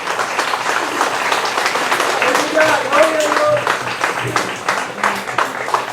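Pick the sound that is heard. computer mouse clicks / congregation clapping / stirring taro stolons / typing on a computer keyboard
congregation clapping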